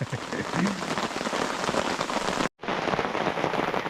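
Steady, dense rain pours down continuously, a close hiss of drops striking a surface, broken by one brief gap before resuming.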